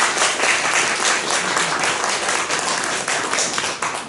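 A church congregation at Sunday worship applauds together, a full, steady burst of many hands clapping that carries on throughout with a few small dips near the end.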